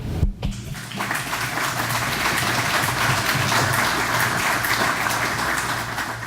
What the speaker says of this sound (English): I want to give you guys a round of applause for all you do to help us keep this museum going